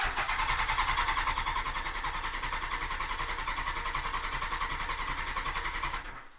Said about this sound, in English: and then I'm going to crank it over